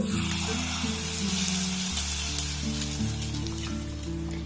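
Curry leaves sizzle loudly in hot tempering oil while being stirred in a pan, a steady crackling hiss that continues throughout with no talking.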